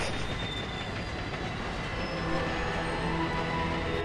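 A train in the video game Resident Evil Zero rolls along its rails with a continuous loud rumble and a rhythmic clatter of wheels, and a faint metallic squeal rises partway through.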